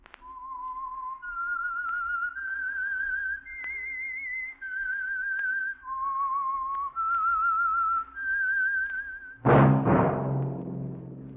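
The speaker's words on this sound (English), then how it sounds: "That whistle is your signal for the Signal Oil Program, The Whistler." A whistled theme melody opens the Signal Oil radio program The Whistler, a lone clear whistle stepping through a slow, eerie tune of sustained notes, followed by a sudden loud musical sting at the end.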